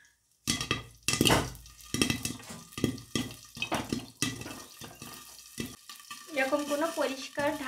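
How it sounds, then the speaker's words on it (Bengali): Popcorn pops in a covered pan on a stove, a dense crackle of rapid, sharp bursts over a steady sizzle, with a faint voice in the final seconds. "কি সুন্দর পপকর্নগুলো হয়ে যাচ্ছে দেখুন।"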